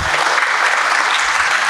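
An audience at a Russian-language talk on software development applauds in a short, dense, even burst of clapping, loud and close, with no speech over it.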